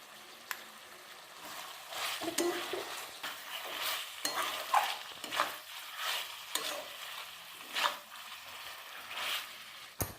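Chicken being stirred with melon seed paste in a pan, giving close scraping and stirring strokes in an irregular rhythm over a soft sizzle, with no talking.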